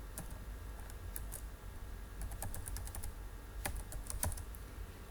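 A password being typed on a computer keyboard: a quick, uneven run of light key clicks, close but quiet, continuing for several seconds with no talking.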